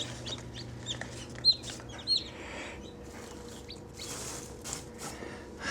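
Young chicks in a brooder made from a big plastic Tupperware bin give soft, high peeping chirps and small clucks, fairly faint over a steady low background hum.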